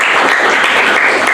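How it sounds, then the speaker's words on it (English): Dense, steady applause from a debate audience rings out, many hands clapping at once in a loud continuous wash, with no talking over it. "can we get a round of applause for both sides of the house?"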